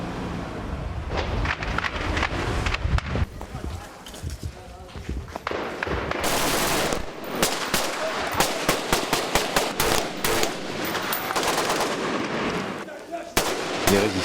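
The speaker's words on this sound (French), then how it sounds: "C'est au canon qu'ils les débusquent un par un." A patched-up tank fires its cannon at city buildings held by snipers during street fighting. Heavy booms and sharp cracks of gunfire come in irregular bursts over about fourteen seconds, with voices mixed into the clamor.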